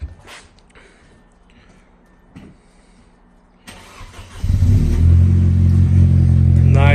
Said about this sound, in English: We're gonna do a little cold start, see how it sounds.